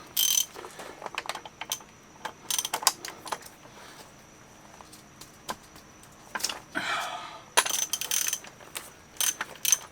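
A ratchet wrench with a 32 mm socket works loose an oil filter during race-day car prep, giving bursts of quick clicking and mechanical rattles spread across the clip, close by and fairly quiet, with no talk.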